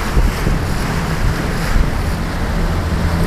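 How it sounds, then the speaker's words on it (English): A southwest wind buffets the microphone over a rough, sloppy sea, giving a steady broadband rush with dull low gusts and no speech. "Quite a slop on outside there today with the southwest wind."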